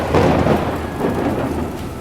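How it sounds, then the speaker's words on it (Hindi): Heavy monsoon rain pours down steadily while deep thunder rumbles through it, heard from the Vikramshila Express train, a dense, loud wash of storm noise with no voices. "मतलब क्या मूसलाधार बारिश हो रही है, ऐसी गर्जना के साथ बारिश।"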